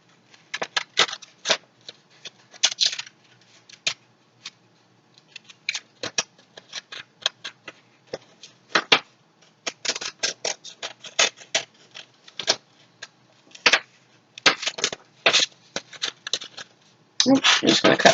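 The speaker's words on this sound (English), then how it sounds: "I like to cut the rest of the paper off" Scissors snip through paper during a Mother's Day bouquet craft, producing quick crisp cuts in irregular bursts with brief pauses between them, close and clear against a quiet background.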